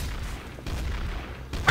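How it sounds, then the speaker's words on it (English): Gunfire in a video game sounds as a rapid burst of booming shots, a couple of louder cracks standing out against a dull rumbling background. "Oh god, so many gunshots."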